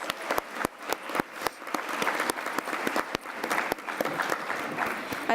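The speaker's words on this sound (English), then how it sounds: "Can I get another round of applause for our speakers, please?" An audience at a morning healthcare conference session applauds its speakers, with sharp individual claps over dense, steady clapping that keeps up briskly throughout.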